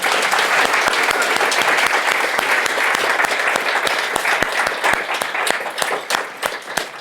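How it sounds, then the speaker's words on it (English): A room full of people applauds volunteers at the LonTAC26 opening speech, with dense, steady clapping that runs continuously and fairly loud for the whole stretch before thinning slightly toward the end. "Can you please give them a round of applause?"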